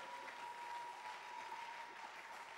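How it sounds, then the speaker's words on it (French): A church congregation applauding, a dense and steady wash of clapping that holds evenly throughout with a faint sustained tone underneath. "Oh, acclamons le Seigneur."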